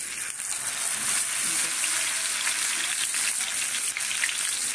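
Loud, steady sizzling of lentil-stuffed gourd leaf pakoras dipped in gram flour batter and frying in hot oil, close up and continuous with crackling bursts throughout.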